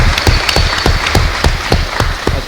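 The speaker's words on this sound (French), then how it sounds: "Est-ce qu'on peut l'applaudir?" An audience at a festival event claps for a few seconds, a dense, fairly loud patter of many hands close by, with no speech over it.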